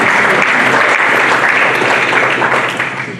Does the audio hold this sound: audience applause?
yes